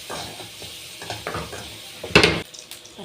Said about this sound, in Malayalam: അപ്പം നമ്മുടെ ഉള്ളിയും കറിവേപ്പിലയും ഇവിടെ വഴണ്ട് വന്ന്